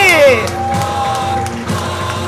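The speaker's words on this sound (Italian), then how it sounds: "E ancora un mega applauso a tutti!" Audience at a live karaoke night cheering and clapping loudly, with whoops and shouts over an amplified voice talking through the noise and a lingering musical tone.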